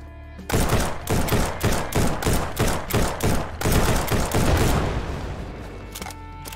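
Rapid automatic gunfire in the survival video game Withstand Survival: a loud, close burst of evenly spaced shots lasting about four seconds, then fading into a short trailing rumble.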